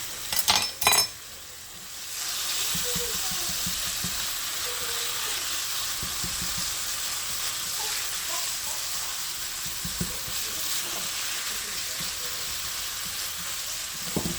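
Onions fry in a pan with a loud, continuous sizzle that begins after a few clattering knocks and stays steady and close throughout.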